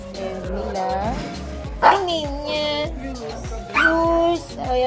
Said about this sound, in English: Ito mga dogs.